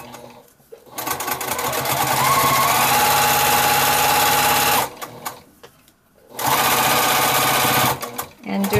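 A sewing machine stitches across a child's drawstring backpack in fast, steady mechanical bursts, running for several seconds, pausing briefly, then running again, close and loud with a voice speaking quietly in the pauses.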